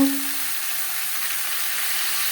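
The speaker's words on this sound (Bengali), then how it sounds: "লবণ হলে আলুর সাথে বেশ ভালো করে মিক্স করে দেবো" Potatoes frying with salt in a pan for rui fish curry, heard as a close, even, loud hiss of oil throughout a short stretch, with a brief tonal clink at the very start.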